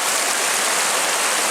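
A mountain stream rushes steadily in a wild bushcraft setting, a loud, continuous broadband wash of flowing water with no pauses and no voices.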